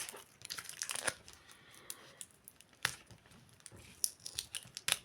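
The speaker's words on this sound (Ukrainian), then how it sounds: "Я скотч забула віддерти." Close, crackly rustling and short ripping sounds come in bursts as adhesive tape is peeled off, with quiet pauses between.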